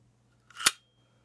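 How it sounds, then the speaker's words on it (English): A Mercury II camera's shutter fires once at a slower shutter speed, giving a single short, crisp mechanical click-snap with a faint whir, close and alone in an otherwise quiet room. "hit the shutter button."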